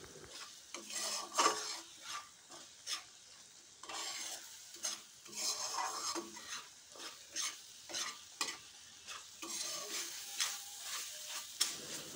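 Onion and garlic masala with turmeric and chilli powder is stirred and fried in a pan, giving a soft sizzle broken by repeated scraping strokes of a spoon against the metal in an uneven rhythm.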